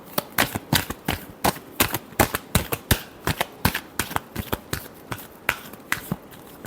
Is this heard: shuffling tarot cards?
yes